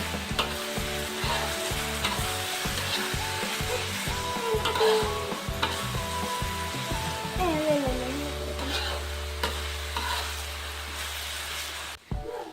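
Cassava leaves and chili frying in oil with salted fish, a steady close sizzle under repeated rhythmic scraping and stirring in the pan, then a lower hum before an abrupt stop.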